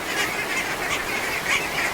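A duck quacks repeatedly and loudly at close range, a run of rough, nasal calls with no talking.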